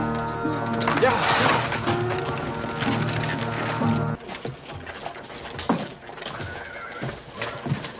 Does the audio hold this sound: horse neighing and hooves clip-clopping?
yes